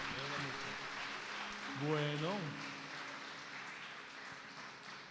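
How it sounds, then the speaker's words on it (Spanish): Church congregation at a Friday evening service applauds in a soft, steady wash of clapping heard from a distance, while someone speaks and sings briefly over it. "aplauso al Señor"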